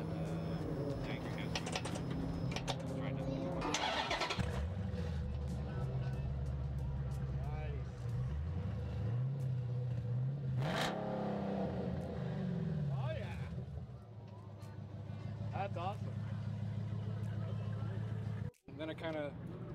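An old Dodge Charger with Black Widow exhausts starts and revs, its engine swelling and falling in several loud throaty pulls before settling into a rough idle, with people talking nearby and a sharp knock near the end.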